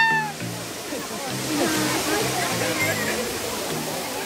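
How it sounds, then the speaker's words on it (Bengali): Steady broadband rush of the Kangthilongsu waterfall at Bhelughat fills the air throughout, constant and moderately loud, with a person talking over it. "ঝর্ণা"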